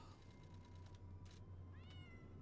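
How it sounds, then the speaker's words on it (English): A cat meows faintly in a quiet room, two short rising calls over a low steady hum, the second one clearer near the end. "Meow."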